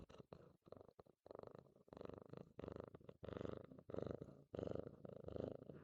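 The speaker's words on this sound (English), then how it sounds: "I want you to listen to my cat purring" Cartman, a pet cat, purrs very close up in a rhythmic rumbling cycle of about eight pulses broken by brief pauses for breath, quiet and alone.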